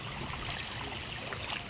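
Feet wading through shallow muddy water, a steady close swishing and sloshing with no clear separate steps, continuous for under two seconds with no talking.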